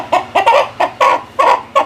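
Chickens clucking up close on a poultry farm in short repeated bursts, a quick irregular rhythm of loud clucks with no talking.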